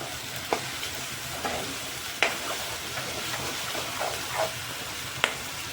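Vegetables for Gujarati suki bhaji, salted with tomatoes, frying and being stirred in a pan, with a steady low sizzle and occasional sharp scraping clinks of the spoon, fairly quiet and with no voices.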